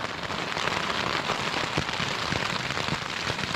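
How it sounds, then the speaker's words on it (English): Steady April shower rain pattering densely and evenly on surfaces outdoors, a continuous close hiss with scattered sharper drops throughout, no voices. "Yeah, it's definitely an April shower."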